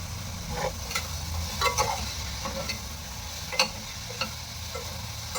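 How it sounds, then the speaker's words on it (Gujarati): Mixed vegetables sizzle softly in a pressure cooker pan, with scattered scraping and clinking of a spatula stirring at irregular intervals; no one speaks. "તો આ વેજીટેબલ્સ આપણે બધા સોટે કરી લઈએ"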